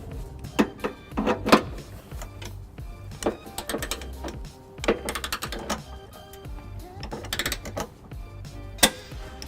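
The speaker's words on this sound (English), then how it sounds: "using my torque wrench, 5-inch extension, 3/4mm, I'll be torquing this to 75 pounds" A torque wrench with a 5-inch extension tightening trailer hitch bolts to 75 pounds on a 2001 Pontiac Aztek, giving a series of close ratcheting clicks and metallic turns in irregular bursts.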